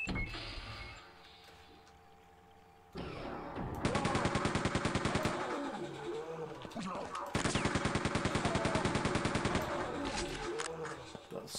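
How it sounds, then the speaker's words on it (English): Super shotgun blasts in Quake II come as rapid repeated bursts, two loud stretches of crackling gunfire separated by a short pause, with quieter game ambience at the start. "The super shotgun."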